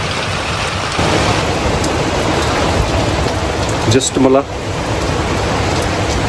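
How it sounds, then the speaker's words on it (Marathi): Steady, dense rain hisses throughout, with a brief burst of nearby talk partway through. "पाऊस काय थांबायला तयार नाही पाऊस खूप आहे"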